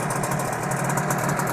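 A HANGKAI 6.0 outboard motor runs at a steady, even idle, a continuous moderate hum with a faint rhythmic vibration and no talk.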